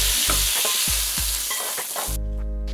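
Shrimp stir-fried with a little salt in a pan, a loud, continuous sizzle broken by scraping stirs and clatters close by, giving way near the end to a steadier tone.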